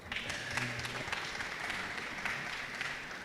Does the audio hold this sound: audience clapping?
yes